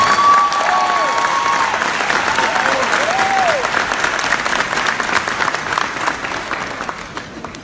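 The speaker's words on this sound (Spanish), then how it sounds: "Un fuerte aplauso para Elías." Strong, sustained applause from a large political convention audience, dense and loud from the start and tapering slightly toward the end, with a few whistles rising above the clapping.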